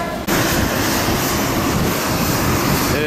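A loud, steady roar of a small passenger plane's engine fills the space continuously, close and constant, with no voices.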